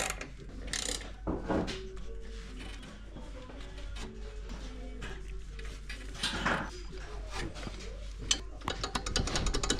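Steady clicking of a small hand ratchet wrench driving clutch screws during a gearbox swap on a 1.6 TDI, repeated rapid ticks over a dull background hum, close by.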